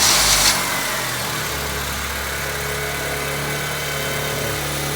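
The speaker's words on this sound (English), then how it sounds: "So it looks to me like it's safe to start the car back up" A 2009 Honda Civic's engine cranks briefly and catches, then settles into a steady, close, low idle hum that runs on evenly with slight vibration.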